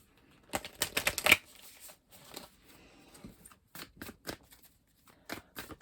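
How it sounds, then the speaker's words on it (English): A deck of oracle cards is shuffled by hand, with a quick cluster of crisp riffling flicks followed by sparser, softer card taps and slides, close and quiet with no talking. "Let us get an oracle card for you."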